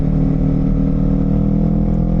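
Honda CBR250RR sport motorcycle engine droning steadily and loud up close while riding, a continuous rumbling hum with no pauses and no talking.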